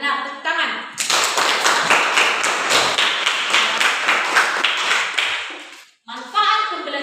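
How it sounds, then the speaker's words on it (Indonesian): A burst of classroom clapping, dense and sustained for about five seconds, with brief teacher talk before and after. "Tepuk tangan"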